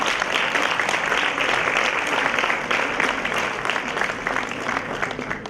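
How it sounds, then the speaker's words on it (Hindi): Loud, sustained applause from a crowd at an induction programme ceremony, dense clapping filling the room throughout. "जोरदार तालियां।"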